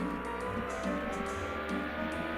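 Engine drone from a car in the video game TTR, a steady loud motor hum with small pitch shifts and no clear horn standing out above it.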